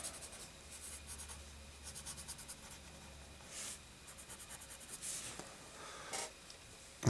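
Grey pencil shading across paper while drawing a snake eye, a soft continuous scratchy rubbing with steady back-and-forth strokes and a few brief louder sweeps, close and quiet with no talking.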